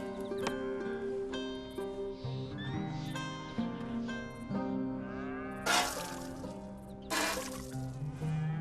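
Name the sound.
cow mooing during milking in Red Dead Redemption 2 video game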